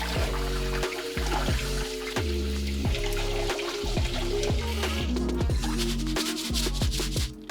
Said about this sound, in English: we have 1 cup of uncooked rice that we're gonna add to our sifter, and then we're gonna rinse it